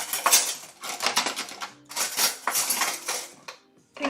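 Cutlery clatters and rattles in bursts as someone rummages through a drawer for a teaspoon, close and bright metallic jangling with short pauses between handfuls.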